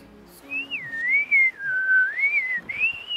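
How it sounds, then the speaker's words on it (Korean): Whistling exhale of a haenyeo diver surfacing from the sea off a quiet Jeju coastal path, a single long wavering high whistle that rises and falls for about three seconds, clear and fairly close. "이게 휘파람 소리 같이 아주 기이한 소리가 들릴 때가 있어요"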